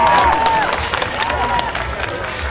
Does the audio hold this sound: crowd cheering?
yes